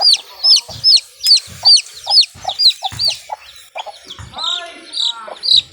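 Three hens cluck and chatter close by in a busy, repeating pattern, with some higher chirps mixed in and no voices present.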